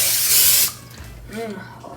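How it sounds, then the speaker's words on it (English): A can of olive oil cooking spray hisses in one steady burst lasting under a second, loud and close, onto a pan for a deluxe peanut butter and jelly sandwich, followed by a brief voice. "you're going to want to spray it with some olive oil so that the PB&J doesn't stick"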